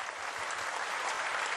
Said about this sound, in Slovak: Veľký potlesk aj pre